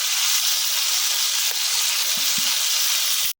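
Coral fish frying lightly in a pan over a village stove, a steady loud sizzle and hiss throughout with a few faint clinks, ending abruptly.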